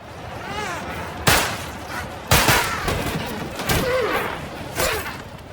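Several sharp gunshots, including headshots, crack out at irregular intervals in the film Extraction 3, over a low, continuous rumble of background noise.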